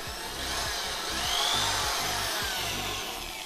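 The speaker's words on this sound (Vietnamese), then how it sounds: "Chức năng khoan thường nghe anh em." A Bosch power drill runs in normal drill mode, a steady, loud whirring motor whine with a faint rising pitch, sounding alone and close for a few seconds.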